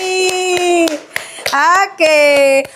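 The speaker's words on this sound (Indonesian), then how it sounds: "Tepuk tangan untuk usaha kita hari ini." A classroom of children claps in a quick, steady rhythm while young voices chant loudly over the beat.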